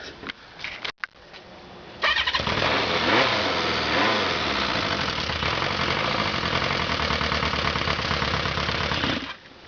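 A 550 motorcycle engine is started after sitting for a few days. Brief sputtering attempts give way to the engine catching and running loudly and steadily up close for several seconds before it cuts off.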